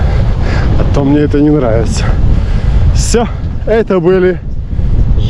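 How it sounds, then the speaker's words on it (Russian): Strong wind blows across open countryside in Germany during a long bicycle ride, a low buffeting rumble that runs continuously beneath someone talking close by. "Так, ветер, я смотрю, усилился, поднялся."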